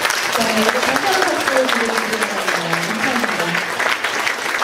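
Audience applause at a GK Group congratulatory address in Korea, a dense, steady wash of many hands clapping throughout, with faint voices and tonal sounds threaded underneath.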